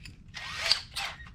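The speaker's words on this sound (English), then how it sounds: "you're going to go ahead and drill a 1/4-inch hole through there" A power drill boring a quarter-inch hole through the door frame of a Can-Am Maverick X3 during a door strut install, heard as two close, loud whining bursts with a short pause between and no talk.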